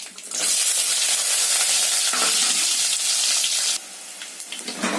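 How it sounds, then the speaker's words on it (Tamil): Cumin, mustard seeds, dal, shallots and dried chillies hit hot sesame oil, setting off a loud, close, hissing sizzle that holds steady, then drops to a lower crackle near the end, with no voices. "நல்லெண்ணெய் ஊற்றிருக்கேன். இதில் வந்து ஜீரகம், கடுகு, பருப்பு, சின்ன வெங்காயம், பட்டை வத்தல்."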